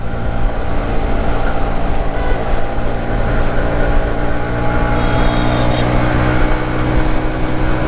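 A TVS XL100 Comfort moped with i-Touch start accelerates along an empty road. A steady, loud engine drone mixes with heavy wind rush, recorded close from the rider's position for the whole stretch.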